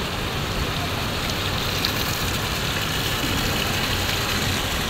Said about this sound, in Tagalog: Lakas ng tulo ng ulan.